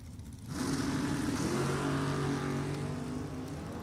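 Drag race launch of a 1965 El Camino against a red Mustang at a drag strip, quiet at first, then engines surge up suddenly and hold a loud, sustained roar, easing slightly toward the end.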